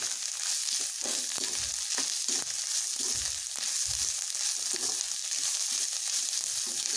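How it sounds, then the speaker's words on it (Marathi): Bitter gourd curry with spices, kokum and garam masala sautés in a pan with a constant loud hiss of frying and faint low stirring knocks underneath. "चांगली परतून घ्यायची"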